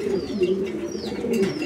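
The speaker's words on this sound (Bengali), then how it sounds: "এটাও মুন্ডিয়ান কবুতর একটা জোড়া।" Several Mundian pigeons coo in low, throaty, rolling calls at close range, overlapping in a continuous murmur, with a few faint higher chirps above.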